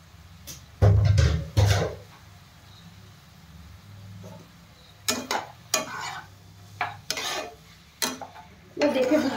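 Homemade pasta is stirred with sauces in a pan during home-style cooking, making close, intermittent scraping and clattering strokes of utensil against pan, separated by quiet gaps.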